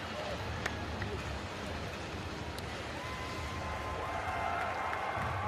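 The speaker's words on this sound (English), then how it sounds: "The crowd starting to build here in Hong Kong." A rugby sevens stadium crowd in Hong Kong makes a steady broad murmur with faint scattered claps, heard under a commentator's talk.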